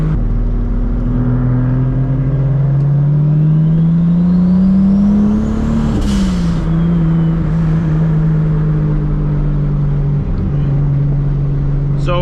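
A Toyota Supra MKIV engine pulls hard and loud, its drone climbing in pitch through a long hard acceleration before easing off and holding steady, heard from inside the car.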